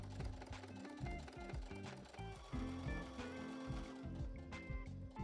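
A sewing machine stitches the seams of a corset-style top with a fast, steady mechanical whirr and chatter, close and quiet, pausing briefly midway before running on.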